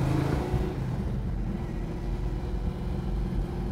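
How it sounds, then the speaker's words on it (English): A 1969 Plymouth Road Runner gives a deep, steady engine rumble with a low throaty exhaust tone, continuous and fairly loud throughout, like a car cruising nearby. "And the exhaust, man, sounds fantastic. Sounds so tough."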